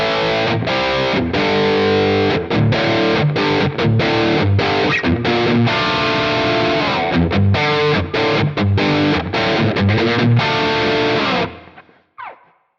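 Heavily distorted electric guitar rhythm part through a Quad Cortex amp capture with reverb and added chorus, loud driving chugs with rhythmic stops, then cutting off into a brief ringing tail.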